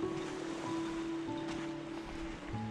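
Sea waves washing onto the beach at Cushendun, a steady close wash of surf with a light rushing hiss throughout.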